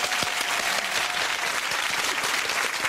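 Dense, loud applause from a television game show studio audience, continuous clapping filling the whole moment with no break or voices on top.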